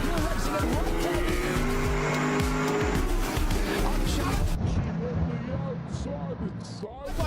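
A Porsche race car pulls away at the green flag during a 24-hour race at Dubai, its engine climbing through gears with loud rising revs and tire noise, while a commentator talks over it.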